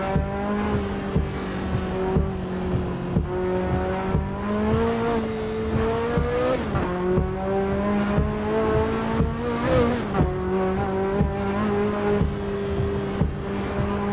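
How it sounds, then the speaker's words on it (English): A car engine in a driving video game drones with a steady, harmonic hum, and its pitch repeatedly sweeps up and drops back as the car shifts through gears and speeds. The engine plays on its own with no talking. "the sound of this car is pretty cool"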